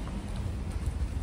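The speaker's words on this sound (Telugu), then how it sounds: "హంగేరీలో వర్షం పడుతుంది ప్రజెంట్" Light rain falling at a bus stop outside a mall entrance in Hungary, a soft steady patter and wash with low rumbling street noise underneath, brief and continuous.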